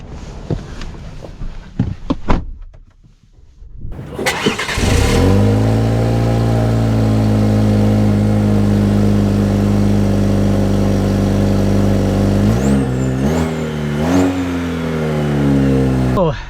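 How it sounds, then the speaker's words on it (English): A 2025 Chevy Colorado ZR2 truck engine starts up at about four seconds, then a steady, loud mid-range drone holds as the truck drives off. Revs rise and fall near the end. Faint knocks and rustling come before the engine starts. "Let us set off in the regular ZR2."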